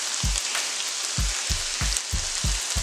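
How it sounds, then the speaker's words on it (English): Onions and peppers sautéing in a pan for a breakfast casserole, a close, steady hiss of frying with a series of dull low thuds at regular intervals. "the onions and peppers are sauteing up nicely"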